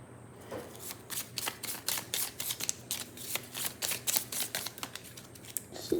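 A deck of tarot cards is shuffled in a quick, steady run of crisp riffling clicks and flutters that repeat for several seconds, close up and fairly quiet, with no talking.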